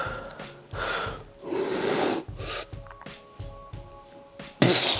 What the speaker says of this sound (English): Take a big inhale.